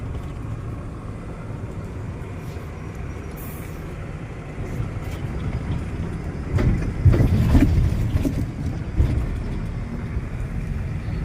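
A BharatBenz BS6 truck drives over soft, muddy ground, a steady low engine rumble that swells louder partway through with a few rattles and knocks, no talking.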